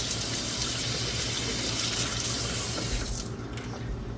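Hot water runs steadily from a household tap into a sink while cleaning brass rifle cartridge cases, a continuous close gushing that eases slightly near the end, with no voices.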